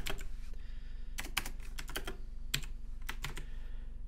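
Computer keyboard typing while coding, with clusters of quick keystrokes and short pauses between bursts, close and clear over a low steady hum.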